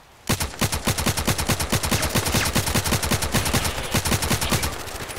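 Rapid automatic gunfire from a first-person shooter game, Contract Wars, fires in a long sustained burst of evenly spaced loud shots, close and alone for about five seconds after a brief quiet start.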